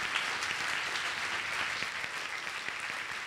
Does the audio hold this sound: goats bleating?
no